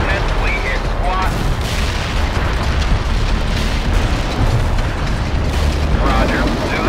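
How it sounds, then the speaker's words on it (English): Artillery shells from a World in Conflict fire-support barrage burst in a dense, continuous rumble of overlapping booms with no clear gaps, loud and close, with faint voices underneath. "Delivering a rain of shells at target coordinates."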